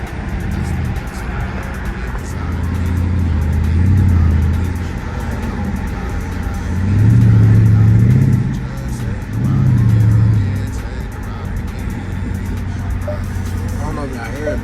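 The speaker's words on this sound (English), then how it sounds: "I knew I'd be wanting to hear the exhaust, so I'm gonna let y'all hear it" Engine and exhaust of an SRT car droning steadily from inside while driving on a highway, swelling in three low revving surges, with speech intermittently over it.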